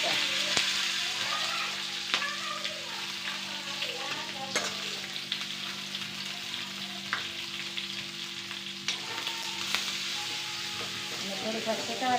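Spices for Kathiyawadi-style sour kadhi sizzle steadily in hot oil in a pan, with a continuous frying hiss and scattered scraping and clinking of a spoon stirring throughout.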